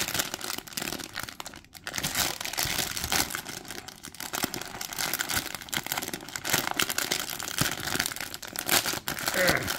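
Small plastic bag holding an anime figure's bonus keychain is crinkled and torn open, with dense, continuous crackling and crumpling close by, punctuated by sharper tearing bursts throughout.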